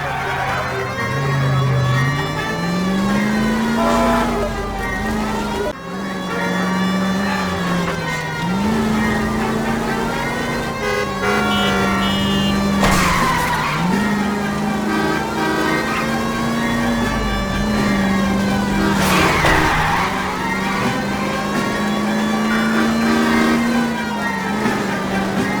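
A car chase plays in the video game L.A. Noire, with a mid-pitched engine revving and shifting continuously, rising and falling as the car accelerates and corners, loud and close, with occasional game dialogue over it.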